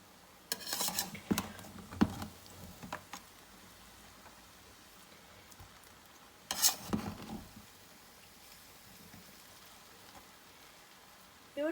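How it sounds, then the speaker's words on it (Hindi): Cooked achari chicken biryani being mixed in a pot: quiet scraping and clattering strokes of a spoon against the pot in two short bouts, with near-silence between them. "अब हम लोग इसको मिक्स करेंगे"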